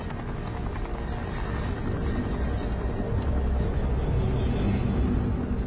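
A helicopter flies over the coast, a continuous low rumbling drone with rapid rotor throbbing that grows slightly louder and stays steady throughout.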